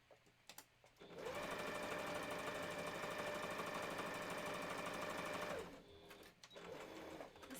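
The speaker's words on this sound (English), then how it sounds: "The sewing machine part is never the most exciting." A sewing machine stitching fabric for a Christmas stocking runs in one steady, fast, whirring burst for about four and a half seconds, then stops, with faint handling noises before and after.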